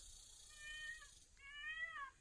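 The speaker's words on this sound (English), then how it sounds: "being chased by the neighborhood cat" A cat in a Mexican home gives two clear, drawn-out meows, the second longer and rising, heard close by against a quiet background.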